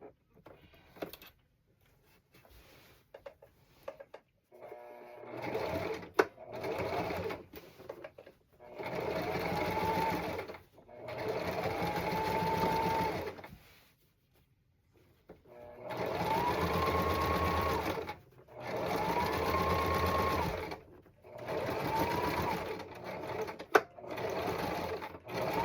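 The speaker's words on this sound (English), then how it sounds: "We finished sewing the pants" A home sewing machine stitches black striped pants in several long bursts of steady mechanical whirring, separated by short pauses and light handling clicks, close and fairly loud.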